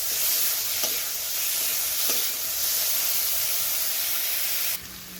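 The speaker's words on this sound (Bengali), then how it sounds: "যতক্ষণ না লালচে কালার হবে ততক্ষণ কিন্তু আমি রসুন আর আদাটা ভেজে নেব" Chopped garlic and ginger fry in a pan of hot oil, giving a steady, close sizzling hiss with a few faint stirring scrapes. The sizzle drops abruptly near the end.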